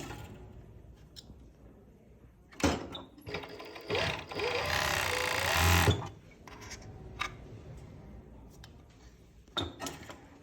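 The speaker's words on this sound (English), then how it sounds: "When you do something curved on overlock or even though on stitching on the sewing machine, you have to hold the piece in order to rotate it." Sewing machine stitching a curved seam on a top with darts, a steady mechanical run of about three seconds in the middle, with brief taps and handling noises before and after.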